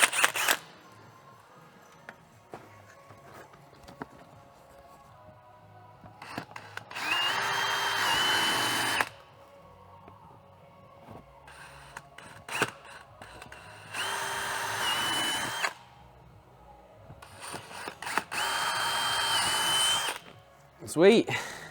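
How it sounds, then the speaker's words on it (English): A power drill whirs in several bursts of a few seconds each, separated by quieter pauses with clicks and handling noise. "Drill through Carl's hand here"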